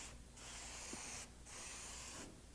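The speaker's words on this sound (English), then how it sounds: "when using a spray, start your spray button out here and then let it come in" A spray can sprays finish onto furniture in two steady hissing bursts with a short pause between them, close by and fairly quiet.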